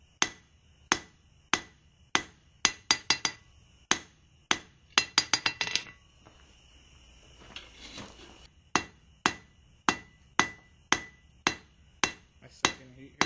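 A blacksmith hammers hot steel to taper the hook end of a fire poker, sharp ringing hammer strikes in a steady rhythm, a quick flurry of rapid blows, a short pause with scraping, then regular ringing blows again.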